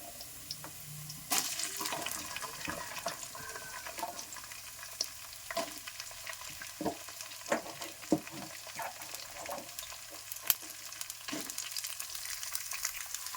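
Cluster beans, just washed, added to a pan after curry leaves: steady frying sizzle and hiss with repeated scraping and clinking stirring strokes, at moderate volume and without talk.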